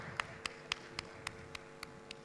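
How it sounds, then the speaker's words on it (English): Slow, evenly spaced single claps ring out about every quarter second, eight or nine crisp hits over a quiet room at an event honoring Professor Walter K. Andersen. "Can we have a round of applause for Professor Walter K. Andersen?"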